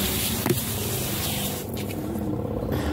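A pesticide sprayer mists chili plants against aphids and ants in a home garden, producing a continuous close hiss with a few soft bumps and scrapes and no voices.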